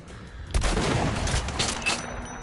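Rifle fire in a video game, a close, loud burst of rapid shots with sharp cracks fading into a ringing tail.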